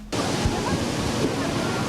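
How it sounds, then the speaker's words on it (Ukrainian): Rushing water from the local waterfall in Yaremche in the Carpathians roars as a loud, constant wash, with a voice speaking over it. "Головний туристичний атракціон Яремче місцевий водоспад."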